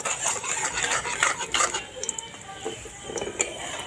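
Cashews and raisins fried in a hot kadai at a smoky outdoor picnic, with a spoon scraping and clinking against the pan in quick irregular strokes over a soft sizzle.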